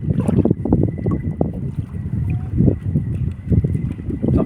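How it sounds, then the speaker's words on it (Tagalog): Gusting wind buffets the microphone on a small fishing boat, loud irregular low rumbles rising and falling continuously with a faint steady tone in the background. "Narinig nyo yung hangin."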